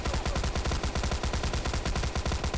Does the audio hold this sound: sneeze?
no